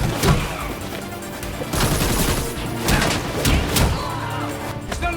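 Gunfire in the video game Gotham Knights, with repeated sharp bursts breaking through a dense, noisy game mix, loud and close over the full stretch without any talk.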